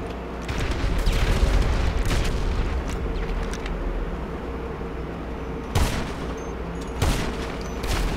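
Sniper rifle gunfire in GTA Online: a sustained rumble of distant shooting with a couple of sharper cracks standing out near the end, fairly loud with no talk over it.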